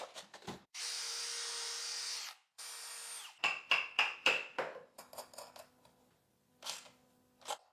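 A power drill drives two long screws to join the parts of a large desk frame, with two sustained whirring runs followed by shorter clicking bursts and pauses, close and alone.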